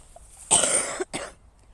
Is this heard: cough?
yes